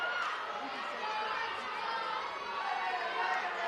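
A dense, noisy softball crowd at a women's preliminary final murmurs and chatters steadily throughout, a constant wash of many voices with no single speaker standing out.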